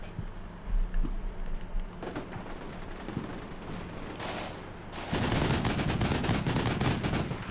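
Sniper rifle shots fired from a rooftop in the war game Combat Mission Shock Force 2, a series of sharp cracks over a steady insect-like ambient hum, followed by a denser burst of gunfire near the end.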